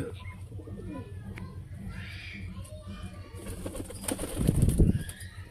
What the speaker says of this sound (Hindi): पहला तुहानूं नर दा शौक करवावांगे, फिर मादा दा शौक करवावांगे दोस्तों।